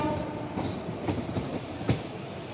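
The Balurghat Express rolls into Jangipur Road station with a dense rumble of wagons, punctuated by a few sharp wheel clacks and brief squeals over the rails, close and fairly loud.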